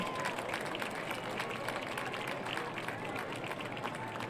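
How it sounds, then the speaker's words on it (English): Crowd applause fills the stands at a high school football game between South Grand Prairie and Grand Prairie, a dense, steady wash of clapping and cheering that holds at an even level throughout. "Let's give Lucas and Will a big round of applause."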